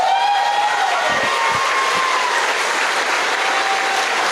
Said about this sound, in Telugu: సార్కోసారి గ్రాండ్ క్లాప్స్